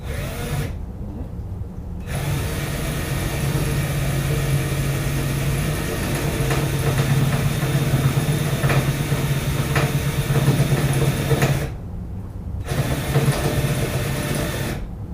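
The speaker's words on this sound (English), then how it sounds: "Always want to use 2 hands on the drill." A power drill whirs steadily for several seconds, stops briefly, then starts again, loud and close with a constant motor hum, drilling during an air spring and gooseneck hitch install on a 2019 Chevy Duramax truck.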